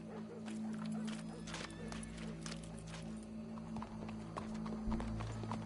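Horse hooves clopping in a video game, a series of faint, uneven clip-clop beats over a steady low background hum, quiet throughout with no talk.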